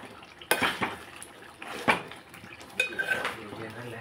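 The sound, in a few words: stirring curry in a pot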